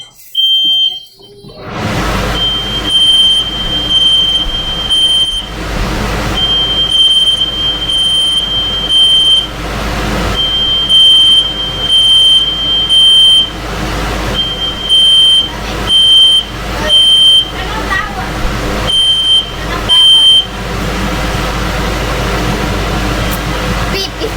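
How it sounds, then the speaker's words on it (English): A fire alarm beeps in repeated high-pitched bursts, loud and insistent, over kitchen clatter and sizzling from a very hot pan while cooking chicken tinga, with people talking underneath. "so the fire alarm got shut off now"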